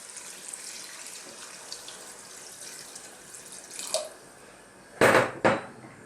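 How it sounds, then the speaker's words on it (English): Water from a tap or jug splashes into a pot of Greek slow-cooked beef stew in a kitchen, a short hiss then a louder pouring gush near the end, close by. "I'm now going to add some water."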